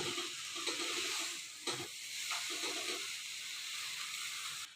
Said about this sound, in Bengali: গুড় দিয়ে এভাবে আপনার নাড়তে হবে প্রায় আট মিনিট